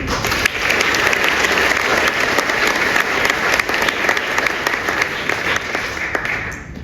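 Loud, dense applause from a large audience at an awards ceremony, continuous and steady throughout.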